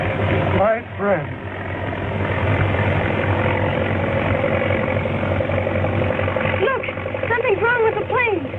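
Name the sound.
airplane engine running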